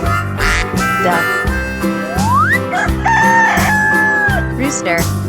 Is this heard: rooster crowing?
yes